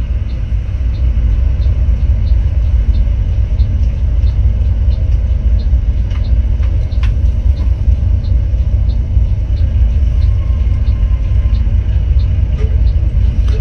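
Inside an ALS Mercedes 1836 sleeper bus, a steady, loud, low engine rumble fills the cabin without a break, with faint rattles and ticks over it.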